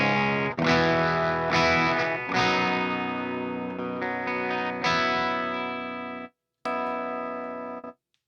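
Electric guitar played through a clean amp with no pedal, a series of ringing strummed chords and sustained notes with a brief gap, moderately loud and alone.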